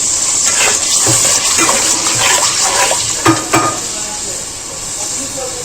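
A pan of spiced curry masala with a splash of water added fries on the stove, giving a steady loud hiss and sizzle with scattered pops and bubbling throughout.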